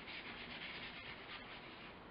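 Charcoal scrubbed across paper while drawing clouds in a seascape, a faint, continuous close rubbing with a brief pause midway.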